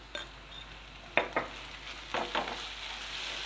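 A spoon stirs onion egg curry with a pinch of turmeric and ginger-garlic paste in a pan, with a soft sizzle and a few scraping clinks against the metal, faint and close.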